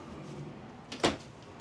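A pantry door in a 2025 Keystone Cougar Half-Ton 28BHS travel trailer opens with a single brief, close click and soft knock against a quiet background hush.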